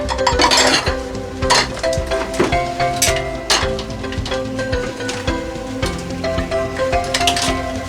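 A metal cooking pot handled outdoors in an African village kitchen, clanking and knocking in a string of sharp metallic hits with a ringing tone between them, close and fairly loud, no voices.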